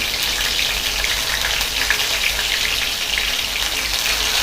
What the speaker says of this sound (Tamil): நல்லா ஃப்ரை ஆகணும்.